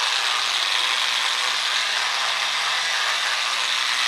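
A polisher with a 1500 grit pad works a granite countertop, making a continuous, even, bright whirring grind that stays at constant loudness throughout, close up and without speech.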